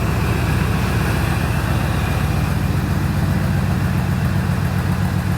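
A truck engine idles steadily as it warms up, a constant low rumble that stays close and loud throughout with no revving or talk.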